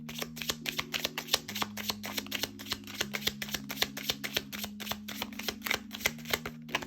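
Tarot cards being shuffled by hand, a rapid run of crisp papery clicks and riffles, close and steady, over soft tonal background music.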